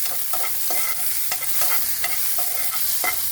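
Tomato pieces frying with onions in a pan for dondakaya pachadi, giving a constant crackling sizzle broken by quick clicks of stirring, close and alone.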